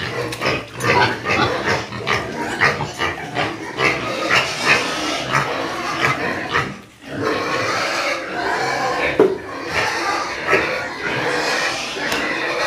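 Pigs grunt and oink repeatedly at close range, a dense, rough, continuous chorus of snorts with brief pauses, loud throughout.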